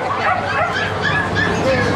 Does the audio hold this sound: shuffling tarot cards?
no